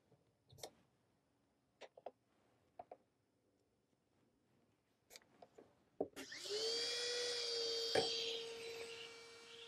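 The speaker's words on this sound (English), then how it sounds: "So we're going to trim this portion now. I'm going to use my red acrylic stone trimmers." A red acrylic stone trimmer grinds a Drufosoft sports mouthguard. Scattered light taps and clicks come first, then the handpiece motor starts and keeps up a loud, steady high whine to the end.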